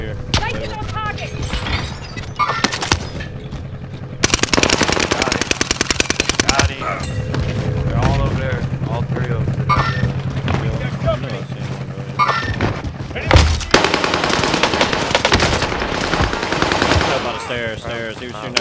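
Bursts of automatic gunfire and single shots in a Call of Duty: Warzone quads match at Fortune's Keep, loud and repeated across the stretch, with players talking over the shooting.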